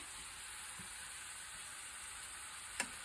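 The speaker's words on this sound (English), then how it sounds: "I'm gonna cook this, breaking the meat into crumbles for about 6 minutes until it's brown." Ground meat seasoned for Puerto Rican plantain lasagna browns in a pan, giving a faint, steady sizzle with a soft stir or scrape and one brief clack near the end.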